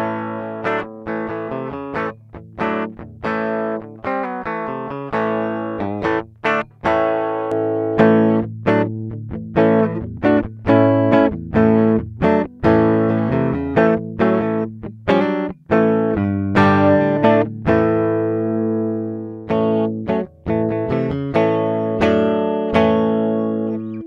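A Gibson Les Paul Special electric guitar rings out through an amp, strummed chords and picked notes with a thick, driven tone and a little reverb, playing steadily without a break.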